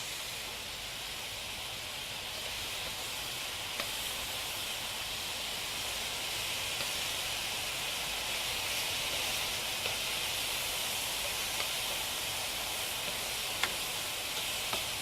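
Beef stir fry sizzles steadily in a hot pan, a loud, even hiss that holds for the whole stretch with only faint clicks and no talk.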